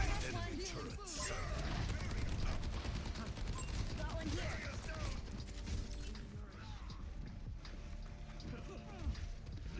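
Enemy turret fire in an Overwatch 2 match, rapid bursts of gunfire layered with busy game effects and clattering mechanisms, fairly loud and continuous across the stretch.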